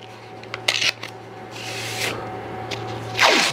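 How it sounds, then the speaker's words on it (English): Strips of painter's tape are pressed and rubbed onto a scrap of pine in a woodworking shop, with short scratchy rubs and a longer peeling, smoothing swipe near the end over a steady low hum. "I'm going to put a couple strips of tape to kind of match."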